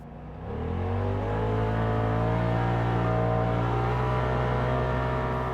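A Polaris RZR Pro XP 4 side-by-side's engine and CVT spool up from idle into a loud, sustained rising drone. The pitch climbs steadily over several seconds, nearby and alone, with no voices.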